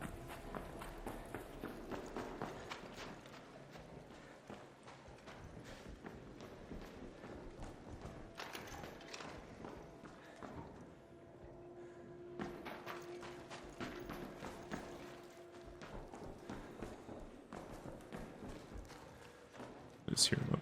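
Footsteps of a player moving around upstairs in the Arc Raiders game, a long series of soft, irregular thuds with steady ambience underneath and a louder burst at the very end.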